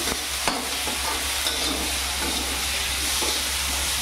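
Ginger and garlic stirred in a hot frying pan for a soy chap dish: a continuous sizzle and hiss with occasional scraping knocks of the spatula, steady and close.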